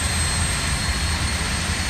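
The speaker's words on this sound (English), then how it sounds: "That sounds like a bandmobile. A jet car." A jet car roars continuously at Gateway Motorsports Park race track in Madison, Illinois, a steady, broad, rushing engine noise with a deep rumble underneath and no voices.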